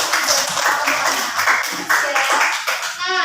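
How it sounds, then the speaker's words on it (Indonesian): A classroom group claps together in a quick, rhythmic burst of several hand beats, fairly close and loud, with a faint murmur and a brief tonal squeak near the end. "tepuk tangan untuk BLN"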